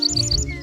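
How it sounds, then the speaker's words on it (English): A small bird sings a quick series of bright, high chirps, close and clear over a low steady background hum, with no voices. "That's a bird singing."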